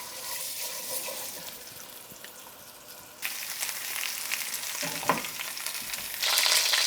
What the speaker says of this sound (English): You want to go ahead and get a nice golden brown sear on all sides as best you can.